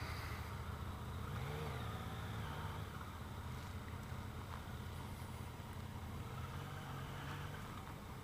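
A 2015 Yamaha FJ-09 motorcycle engine pulls smoothly under acceleration, a steady rising drone blended with heavy wind rush, with no voices.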